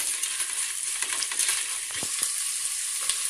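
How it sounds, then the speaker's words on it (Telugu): Ginger garlic paste frying in a pan for chicken biryani, a constant crackling sizzle with scattered stirring clicks and taps, moderately close and with no speech. "ఇందులో అల్లం వెల్లుల్లి పేస్ట్ వేసుకుంటున్నాను. ఇది పచ్చి వాసన పోయే వరకు వేయించుకోవాలి."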